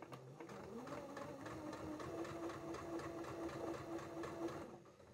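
A sewing machine stitches the lining of a bucket bag in a quick steady run of needle strokes close up, stopping just before the end.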